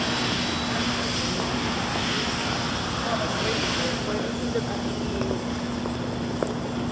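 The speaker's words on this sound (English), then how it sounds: "This is Houston Airport." Houston Airport ambience: a broad, steady roar of aircraft engines fills the air, constant and fairly loud, with a faint hum underneath and no distinct individual events.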